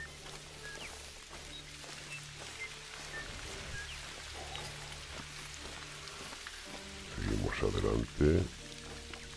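Steady rain in the hunting game theHunter: Call of the Wild, a continuous hiss of falling drops throughout, with a person speaking briefly and louder rustling bursts near the end.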